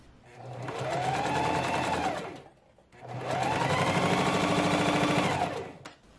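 A sewing machine stitches a dress waist seam in two long, steady bursts of rapid mechanical whirring, separated by a brief pause, close and clear with no talking.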